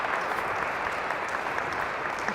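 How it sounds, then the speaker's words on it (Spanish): Steady, dense audience applause in a church gathering, a continuous wash of many hands clapping close by with no voices over it. "El aplauso es para el Señor."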